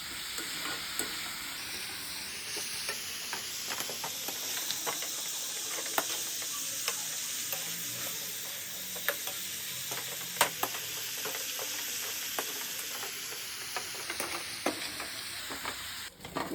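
Onions for a chutney being sautéed in a pan, giving a continuous close sizzle broken by frequent small taps and scrapes of stirring throughout, with no voices.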